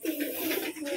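Wild pigeons feeding nearby, giving soft low cooing calls in a continuous close rumble, with a voice faintly present underneath.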